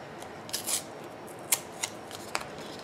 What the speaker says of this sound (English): just tearing off the edges I don't need